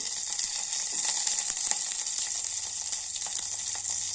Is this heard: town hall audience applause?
no